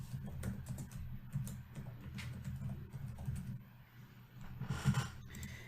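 Typing on a computer keyboard, soft close key taps in an irregular stream with brief pauses, quiet and alone.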